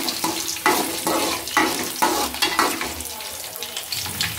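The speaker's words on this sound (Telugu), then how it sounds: "జీలకర్ర, ఆవాలు, వేరుశనగుళ్ళు, జీడిపప్పు, అలానే పచ్చిశనగపప్పు, ఎండుమిర్చి వేసుకోవాలి. ఇవి లైట్గా ఫ్రై చేసుకోవాలి." Cumin, mustard seeds, peanuts, cashews, chana dal and dried chillies fry in hot oil for tempered rice, giving a steady close sizzle broken by repeated stirring scrapes and rustles at a regular pace.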